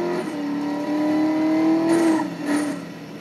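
A Mercedes-Benz SLS AMG sports car engine in the racing game Need for Speed Most Wanted revs up in a rising, sustained roar, then briefly drops and surges again, loud and alone.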